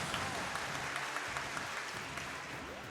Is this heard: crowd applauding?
yes